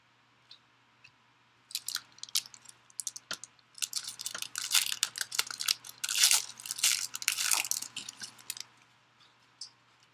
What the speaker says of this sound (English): The loudest typer on the planet is Mouse.